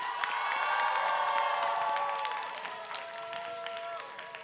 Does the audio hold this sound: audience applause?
yes